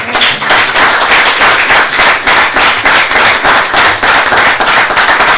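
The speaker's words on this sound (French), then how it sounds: "Applaudissez pour vous-même" Applause from a seminar audience on a motivational theme about success and personal gifts, a loud, dense patter of many hands clapping steadily throughout with no talk over it.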